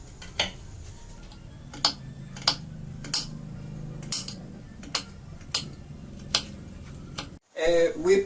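A knife chops red chili on a board for a Nicaraguan-style omelette, giving sharp, evenly spaced knocks about once per second, close and distinct over a quiet kitchen background.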